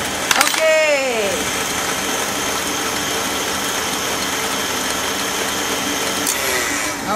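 An electric mixer whips macaron meringue in a culinary kitchen with a loud, steady motor whir and a faint beater rattle, close by, slowing at the start and end, with some speech present.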